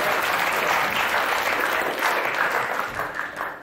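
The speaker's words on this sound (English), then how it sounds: "Can we give a round of applause to Martin?" Applause from a crowd at a live concert event, a dense, steady wash of many hands clapping close by that tapers off toward the end.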